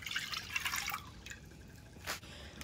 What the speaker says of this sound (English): We're going to add in 2 cups of sweet milk